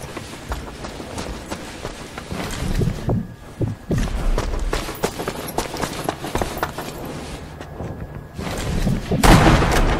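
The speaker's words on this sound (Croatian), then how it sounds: "Au, stani, pucate me obojica, brat." Rapid gunfire and impacts from a Sniper Elite V2 free-for-all deathmatch, with irregular sharp bursts and thuds over a busy game soundscape and a louder burst near the end.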